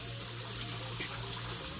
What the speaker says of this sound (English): So we just rinse it in really cold water.